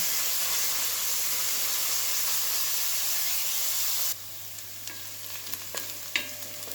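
Onions fry in a little oil in a pot with a loud, steady sizzle that suddenly drops to a quieter hiss, then a few soft clicks and stirring knocks.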